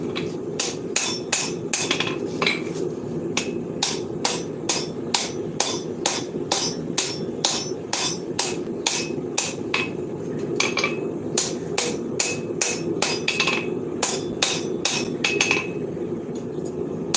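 A hammer strikes a Viking seax blade being forged, ringing out in steady, regular metallic blows roughly every half second, close and bright over a constant low background rumble, with no talking.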